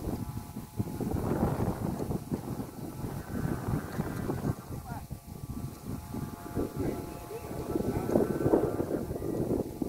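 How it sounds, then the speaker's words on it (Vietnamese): Strong gusts buffet the microphone outdoors while a newly built kite is flown, a rough, rumbling roar that surges and dips continuously, with voices talking underneath. "gió tới lớn rồi"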